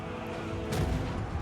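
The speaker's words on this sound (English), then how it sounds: "Oh, the cannon tower is horrible!" A cannon tower fires artillery in Total War: Warhammer, one muffled boom bursting out midway through a dense, low battle din.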